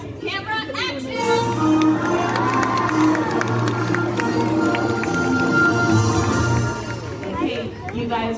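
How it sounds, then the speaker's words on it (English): A crowd of spectators at Universal Studios cheering loudly for a dog, sustained shouting and whooping from many voices including children, near and continuous for several seconds. "When I say action, I need you to cheer for Trip as loud as you can"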